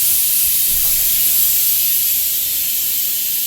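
Steady, loud hiss of steam escaping a pressure cooker with beef cooking inside, a continuous broadband rush held evenly throughout with no pauses.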